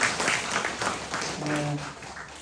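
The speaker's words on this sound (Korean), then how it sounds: "박수 다 드셔야 되겠어요?" Applause from a church congregation at a Saturday prayer meeting, welcoming 27 students on retreat, heard as steady clapping under someone talking over a microphone.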